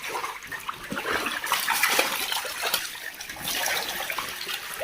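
Water tipped out of a fish-rearing tank pours and splashes in a steady, continuous rush that swells slightly in the middle, close by with no talk.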